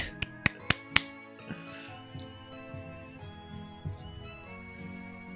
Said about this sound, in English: I don't know if the clapping is being picked up on the mic.